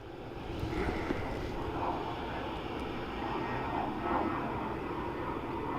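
An ATR turboprop airliner at Dublin Airport produces a continuous broad engine roar at a distance, steady and unbroken throughout, with no voices.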